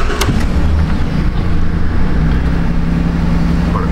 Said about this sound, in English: Still cold, so it's idling high